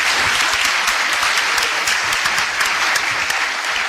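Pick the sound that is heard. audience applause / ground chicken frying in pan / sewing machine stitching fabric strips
audience applause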